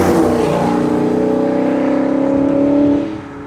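A Chrysler 300 SRT with a 6.4-litre naturally aspirated V8 Hemi holds a loud, steady rev with deep harmonic drone for about three seconds before the sound drops away.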